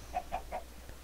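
A Minecraft chicken clucks three times in quick, even succession, each cluck short and clear, followed by a fainter fourth note in otherwise quiet game audio.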